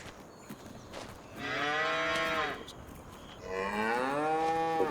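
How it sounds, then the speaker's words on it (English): Cattle in a farming game feedlot cow house give two long, loud moos, each lasting over a second with a pause between, with no talk over them. "our cow house with the feedlot, one of the bigger ones"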